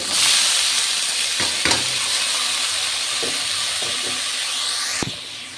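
Cabbage and fried onions in a hot pan giving a loud, steady sizzle and hiss, with a few scraping stirs and a sharp knock near the end, heard close with no speech.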